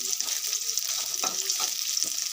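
Chopped onions fry in a pan in a constant close sizzle, with occasional scraping and stirring sounds layered over the hiss, and no voices.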